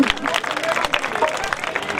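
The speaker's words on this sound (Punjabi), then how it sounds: "ਤਾੜੀ ਮਾਰ ਦੋ" Audience applause at a live outdoor Punjabi song performance at a village fair, a dense, steady patter of many hands clapping for the whole stretch with crowd noise and a voice mixed in.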